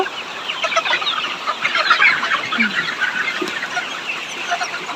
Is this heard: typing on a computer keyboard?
no